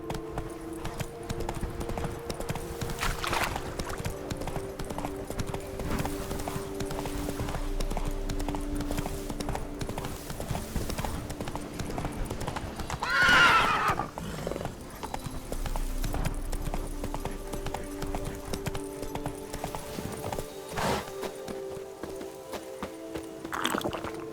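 Roach the horse gallops in The Witcher III, hooves clip-clopping in a steady rapid rhythm over a continuous game soundscape, with a brief louder burst midway.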